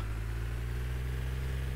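Steady engine drone of a truck in the Roblox game Retail Tycoon 2, a continuous low hum with no variation or other sounds.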